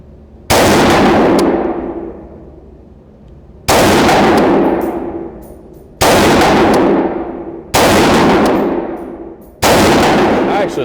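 A PTR91 HK G3 clone rifle firing 7.62x51 rounds: five loud, sharp shots spaced a couple of seconds apart, each with a long ringing decay outdoors.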